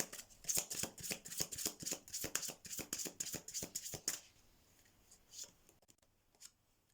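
Tarot message cards are shuffled in a quick run of crisp riffling flicks for about four seconds, close and quiet, then a few scattered soft taps as the deck settles.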